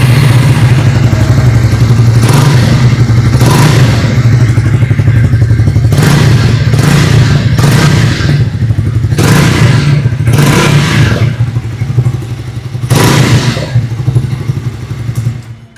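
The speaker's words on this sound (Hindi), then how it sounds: "आइए अभी सुन लेते हैं इस बाइक की एग्जॉस्ट नोट।" A 2026 Triumph Speed T4 motorcycle with a new 350cc engine, idling with a deep, steady exhaust thrum close by, punctuated by several sharp throttle blips that rise and fall, with no talk.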